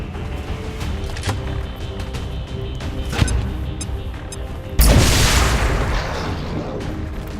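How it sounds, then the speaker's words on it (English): A grenade goes off in the video game XCOM 2 with a sudden booming burst that decays into a rumbling crackle, preceded by quieter in-game clicks and ambience. "try to put a grenade right in between the Muton and... Yep, there we go. Beautiful. Bombs away."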